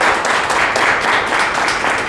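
Audience at a traffic-police ceremony in Indore breaks into steady, dense applause welcoming the guests on stage, a continuous wash of many hands clapping at moderate loudness.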